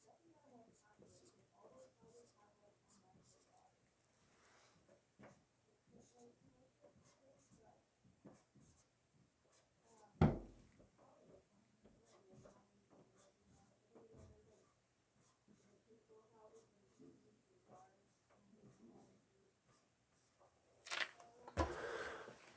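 A pencil writes out a rhythm skeleton on paper during a percussion lesson, with faint, scratchy strokes and taps that come and go while a person talks over them, plus a couple of louder bumps.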